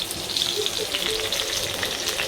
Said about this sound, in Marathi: कढीपत्ता तर धुवून घेऊया आणि मग टाकूया कढीपत्ता.